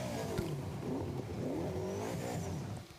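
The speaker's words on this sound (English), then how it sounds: "But listen to the tone of this Toyota V8." A Toyota V8 drift car engine revs and holds a steady, rising-and-falling tone at a drift qualifying round at Manfeild, sounding continuous and fairly close throughout.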